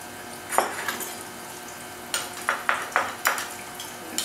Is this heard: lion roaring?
no